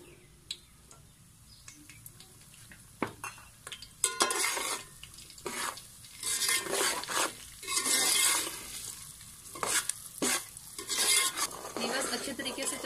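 Semolina stirred with a metal spoon through hot oil in a pan for halwa, with a soft sizzle under irregular scraping and clinking strokes that grow busier after the first few seconds.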